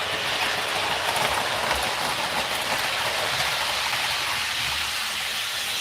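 A model railway freight train runs along its track with a continuous rolling rumble and faint rhythmic clicking, steady and fairly loud throughout, with no voices.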